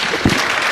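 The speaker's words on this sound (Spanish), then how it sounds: "Le damos un fuerte aplauso, por favor." An audience at a Colombian university medical lecture gives a short burst of applause, a dense, close wash of clapping with one louder thump partway through.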